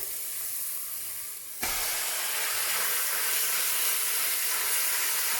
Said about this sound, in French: on va à présent ajouter nos 800 grammes de viande hachée